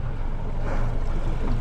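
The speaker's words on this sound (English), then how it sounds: "before this boat gets too close." A boat approaching at sea during tuna fishing gives a steady broadband engine and wind rumble, loud and continuous for the short span, with no talk.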